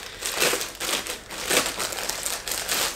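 Plastic packaging around a Tomshoo wood-burning camp stove crinkles and rustles up close in repeated handling bursts, steady and fairly loud with no one talking.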